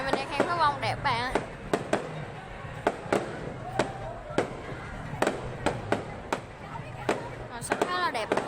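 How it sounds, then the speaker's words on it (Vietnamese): New Year's Eve fireworks bursting in a steady series of sharp bangs and crackles over a noisy outdoor crowd, with people talking and exclaiming throughout. "Mình đang khen pháo bông đẹp bạn ơi."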